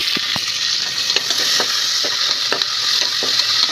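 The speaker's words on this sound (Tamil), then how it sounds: "சின்ன வெங்காயம் நல்லா வதங்கினதுக்கப்புறம் தக்காளி சின்ன தக்காளியாக 2 தக்காளி வதக்கி வச்சுருக்கேன்." Small shallots and tomatoes sautéing in a pan, a steady close sizzle broken by repeated clacks of a spoon stirring through the mixture for a few seconds.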